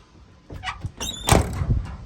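The door of a 1986 Dodge Ram D150 pickup squeaks as it swings, then closes with a solid thump followed by a short rattling clatter, close and moderately loud.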